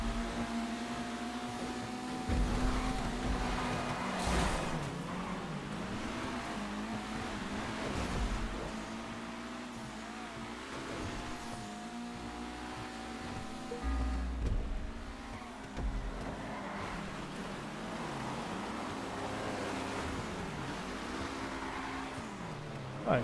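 Rally car engine in a racing video game on the RedWood Light track, a steady droning motor that rises and dips with revving and gear changes, heard alone at moderate level.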